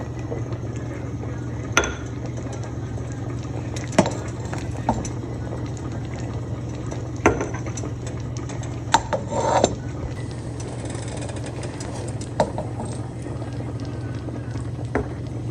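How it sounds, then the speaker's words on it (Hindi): Date and tamarind chutney boils in a pot with a steady low bubbling, broken by occasional sharp pops and light knocks, close and fairly loud throughout. "जब ये बुलबुले उठने लगें तो समझें चटनी तैयार हो गई है।"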